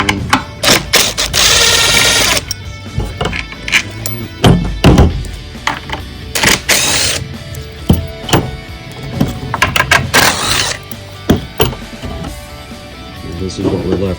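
Metallic clunks and ratcheting taps from a socket wrench working on the bolts of a Pentair Whisperflow pool pump, close and irregular, with someone talking throughout.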